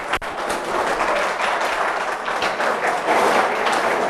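Students in a university lecture hall clap quietly, a soft, continuous patter of many hands at a moderate, even level with no talking.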